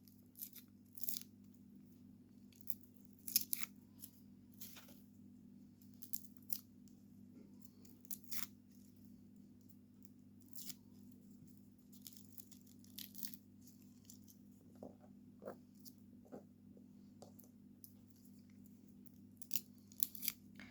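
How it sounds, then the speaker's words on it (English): Three medium garlic cloves being peeled by hand, giving faint, scattered crisp tearing and papery crackles over a steady low hum. "So you apparently need to peel the garlic like so."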